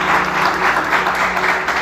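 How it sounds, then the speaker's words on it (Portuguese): A church congregation applauds in a brief, steady burst of many hands clapping at close range. "Pode aplaudir Jesus por isso."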